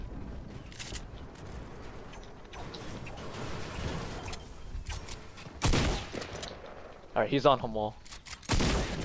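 Gunfire in Fortnite: sharp bursts of shots crack out in clusters, loud and close, with a fast rattling volley near the end, mixed with background game noise while a player talks over it.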